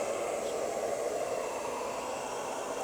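A Teendow G20 robot vacuum hums with a quiet, even whir like soft background white noise, steady and faint throughout with no voices.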